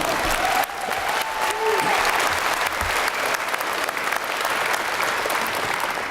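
Audience at a University of Lethbridge fall convocation ceremony applauds in a sustained, dense wash of clapping that fills the hall throughout.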